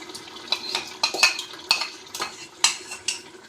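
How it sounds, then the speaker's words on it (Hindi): A metal utensil scrapes and clinks against a cooking pot in uneven strokes as yogurt is whisked into moringa flower curry for sohanjna gosht. The sound is close, with about a dozen sharp clatters and no voices. "हम इसमें 1 प्याली दही शामिल करेंगे, फेंट के शामिल करेंगे"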